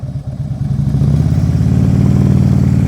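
Motorcycle rolling slowly and stopping on a gravel driveway, with the engine's low, loud, close putter thumping rhythmically and rising steadily as the throttle comes up, alone without speech.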